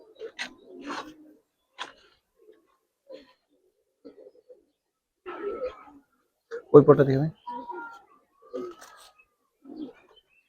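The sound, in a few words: Giribaz pigeons cooing in loft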